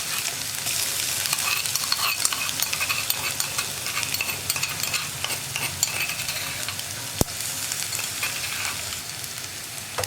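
Crushed ginger and garlic sizzle and fry in a pan for a potato curry, with a steady, close hiss broken by scraping stirs and one sharp knock near the end; no voices.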